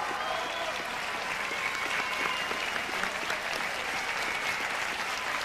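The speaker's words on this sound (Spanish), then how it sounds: "El aplauso del público ahora es fantástico." A concert audience at a rock and roll show claps enthusiastically, a full, sustained wave of applause that stays even and lively from start to finish.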